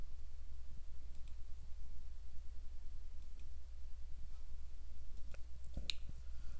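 A few faint computer mouse clicks while starting a software download, scattered single taps over a steady low hum, quiet and close.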